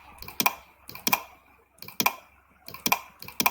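Computer keyboard keys pressed while selecting items on screen, several crisp clicks in small clusters with short pauses between them, close and clear without talk.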